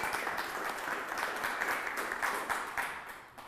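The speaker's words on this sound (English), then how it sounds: "Quick round of applause for Sam Murray." A crowd at a community access media annual meeting gives a round of applause for a volunteer. The clapping is dense and continuous and fairly loud, filling the full length and tapering slightly at the end.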